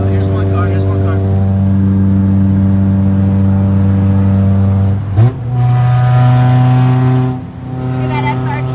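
A car accelerates hard on the street during a race with a loud, sustained engine drone, a sharp gear change around five seconds, then a rising pull, heard close by.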